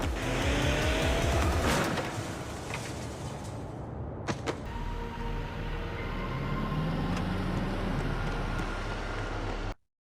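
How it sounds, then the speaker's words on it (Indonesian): In a film scene, a black van speeds at full tilt and strikes a person. A loud engine roar and tire noise lead to a couple of sharp impact thuds midway, then a continued vehicle rumble that cuts off abruptly. "sebuah mobil van hitam yang nampaknya dikemudikan Gopuri menabrak Yongsop dengan kecepatan penuh dan kemudian kabur."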